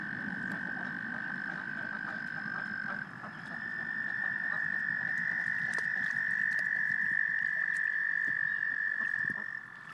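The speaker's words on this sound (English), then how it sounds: "all the toads on the other side of the pond" A dense chorus of toads trills and croaks continuously from across a pond in spring, with a steady high-pitched drone that grows slightly louder partway through.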